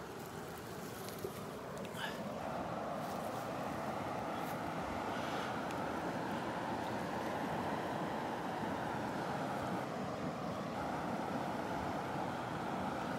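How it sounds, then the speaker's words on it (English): Steady rushing creek water flowing on a farm, a continuous broadband wash that holds even in level throughout, with no voices over it. "Give me a thumbs up if you can hear the creek."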